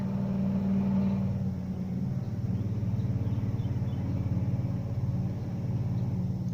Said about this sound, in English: There's that truck.